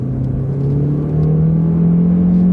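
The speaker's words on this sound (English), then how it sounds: "Not really all that bad acceleration." A small used car accelerates hard from a stop after spinning its tires, the engine note rising steadily and growing louder and closer across the whole stretch.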